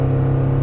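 A 2024 Toyota Tacoma pulls a trailer at its maximum 6,400 lb rating with the throttle floored, giving a brief, steady engine drone heard from inside the cab.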